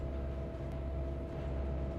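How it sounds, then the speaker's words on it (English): Train rolling along in the Trainz 1.3 railway simulator, a steady low rumble with a faint constant hum, continuous and even throughout with no talk. "And we'll let our train clear the points."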